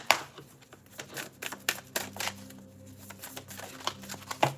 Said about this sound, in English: this card came out when I was just shuffling the first time